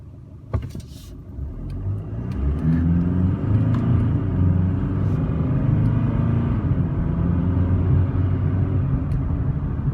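A 2016 GMC Canyon Diesel All Terrain pickup pulls away from a stop, its engine rumble rising after a sharp click and then holding a steady droning pull as it gathers speed, heard from inside the cab.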